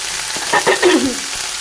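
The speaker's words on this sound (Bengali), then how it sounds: "এবার এই সব সবজিগুলোকে আমি ভালো করে ভেজে নেব" Cauliflower, potato and onion fry in a pan with a steady, close hiss and sizzle. A few brief stirring scrapes rise through the middle.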